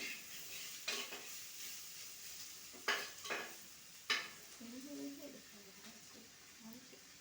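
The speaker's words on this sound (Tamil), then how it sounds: "லைட்டாக ஆயில் சேர்த்துட்டு நல்லா அதை பரட்டி விட்டுட்டு" Capsicum and potato masala sizzles in oil in a pan. The spoon stirs it in a few scraping bursts, and there is a short stretch of soft talk near the end.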